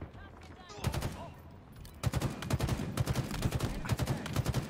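Rapid video-game gunfire in bursts, a quick run of shots and then sustained automatic fire, loud and close, with a voice talking over part of it.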